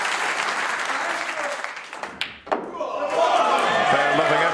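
A Crucible snooker crowd at the 2023 World Championship applauds loudly and steadily, with a brief dip and a thud before the clapping surges back in full.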